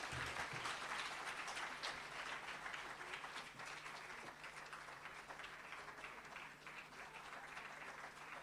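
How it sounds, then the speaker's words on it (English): Audience applause at a World Day of Safety and Health event in Free State, greeting the minister as she comes up to give the keynote address: steady, dense clapping that fills the whole stretch and eases slightly toward the end. "Can you give her a round of applause?"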